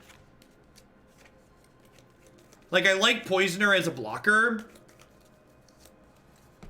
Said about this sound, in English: I'm actually shuffling the set of extended art basic lands